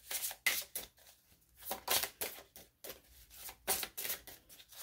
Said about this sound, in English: These are also a little bit more challenging to shuffle because they're larger cards.